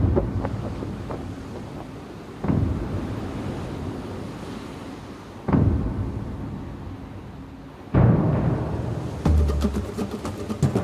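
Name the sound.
wind blowing on a land yacht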